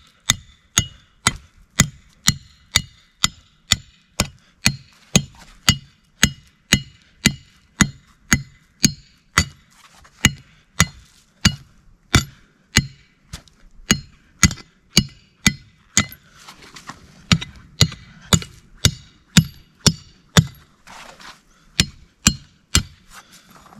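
Steady hammer blows drive the sides of an animal trap set into the ground outdoors, about two sharp metallic strikes per second over the whole stretch, loud and close, with no talking.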